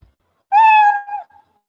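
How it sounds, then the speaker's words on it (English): A single cat meow sound effect plays when a letter is clicked, one loud, clear, drawn-out tonal cry of about a second that trails off, with nothing else around it. "if I click on this letter, I can hear a sound meow, meow"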